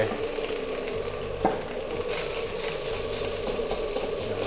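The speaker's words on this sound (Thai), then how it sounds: "จากนั้นใส่ ข้าวสวยนะครับ ลงไป" Cooked rice being stir-fried in a pan for fried rice with crispy pork cracklings, a steady close sizzle with spatula scrapes and one sharp knock, no talking.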